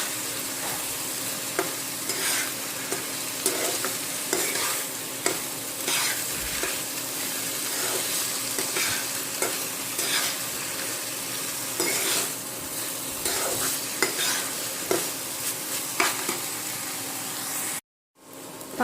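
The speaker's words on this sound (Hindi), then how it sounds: "और इसे अच्छी तरह से 5 से 10 मिनट तक आप इसे भूनें।" Grated carrots for carrot halwa stir-fried in a pan, a steady close sizzle with frequent scraping and stirring strokes of a spoon against the pan, continuing without pause until a brief cut near the end.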